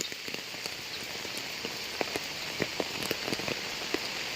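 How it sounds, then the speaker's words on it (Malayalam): Heavy rain pours steadily in Kozhikode during flooding, a dense hiss with scattered sharper drops striking a surface nearby, no voices. "ഭയങ്കര മഴയാ"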